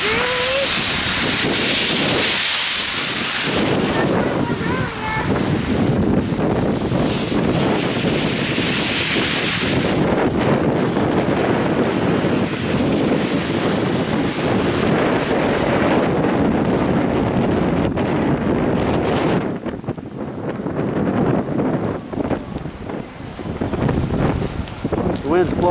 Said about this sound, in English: The wind's blowing quite a bit.